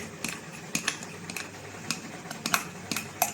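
Yeast stirred into a cereal bread mix in a bowl, heard as a series of light, sharp clinks and scrapes of utensil against the bowl, spaced irregularly and fairly close, with no talking.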